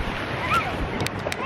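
Sea waves wash on the shore at Binmaley Baywalk beach, a steady surf hiss heard close by, while people talk over it.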